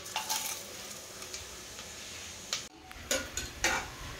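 Whole spices such as fennel, cinnamon, cardamom and cloves frying in ghee for mushroom biryani, a soft sizzle broken by spoon clinks and stirring scrapes against the pot, fairly quiet overall.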